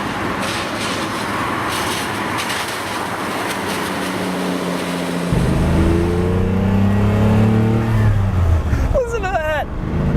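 A Lamborghini Countach engine on a wet day idles, then rises into a loud, close rev that climbs in pitch for several seconds before easing back.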